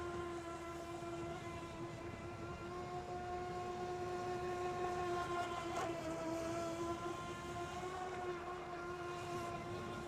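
A small WLtoys WL912-A budget RC speed boat runs across water, its motor giving a steady high-pitched electric whine at moderate distance, holding constant for the whole stretch.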